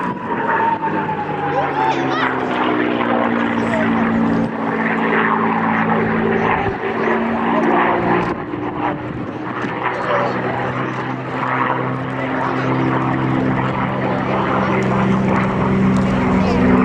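Propeller engine of a USAF P-51D Mustang fighter flying at the RAF Cosford Airshow, a steady loud droning roar with layered harmonic hum that holds throughout, swelling slightly as the aircraft passes.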